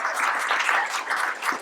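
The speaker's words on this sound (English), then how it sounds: "Hold your applause for just a second" An audience at a live book launch event claps steadily and densely, a full, even wash of applause that carries on without a break.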